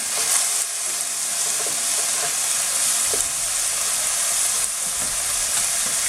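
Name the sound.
chili being added to hot oil and frying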